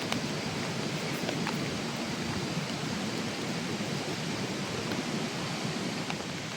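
Storm wind blows steadily across a rice field, a broad, even rush of noise with no voices, fairly quiet and constant throughout.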